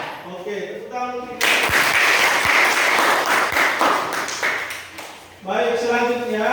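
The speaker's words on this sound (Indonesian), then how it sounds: "tepuk tangan" Hands clap together in a classroom, a burst of group clapping that starts abruptly after a teacher's speaking voice and fades before the voice returns, with a few sharp single claps standing out.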